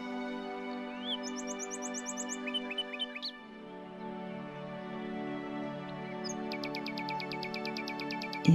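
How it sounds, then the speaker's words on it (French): Birdsong plays over a steady droning tone: bright, rapid trills and chirps rise and repeat in quick bursts, first at the start, then clearly again near the end. "Profitez de ces chants d'oiseaux."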